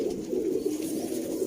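Sialkoti pigeons cooing nearby in a soft, continuous rolling coo with steady pulses and no voices.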